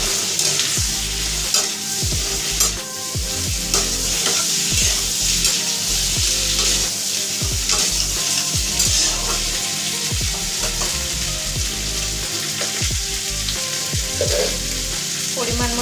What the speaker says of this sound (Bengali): গাজর আর পেঁপেটা দিয়ে দেব। দিয়ে খানিকক্ষণ নাড়িয়ে আমি বিনসটা দেব।